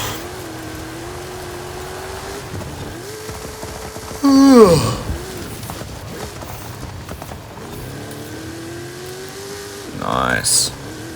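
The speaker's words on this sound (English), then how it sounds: "I'm gonna hop in the drift car." A drift car in the racing video game Forza Horizon 5 revs through shifting engine tones, with a sharp squealing sweep around four seconds in and another near the end, while a voice talks over it.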